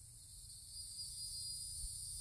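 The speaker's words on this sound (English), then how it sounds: "Now here comes the cicadas." Cicadas drone in a continuous high, shimmering buzz at moderate distance, steady and unbroken, with a faint low rumble of background beneath and no voices.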